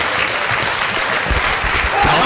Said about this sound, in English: Micky L getting the crowd in Doncaster behind him.